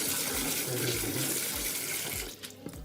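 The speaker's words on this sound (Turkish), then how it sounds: "Sonra suyu açıyoruz. Bir güzel bunu yıkıyoruz." Tap water runs steadily into a plastic tub while chestnuts are washed, a dense continuous splashing close by that eases and thins near the end.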